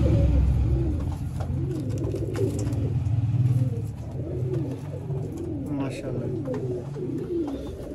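Pure Ferozpuri pigeons coo continuously in rhythmic rolling phrases, fairly close and steady throughout, over a busy background with occasional traffic noise.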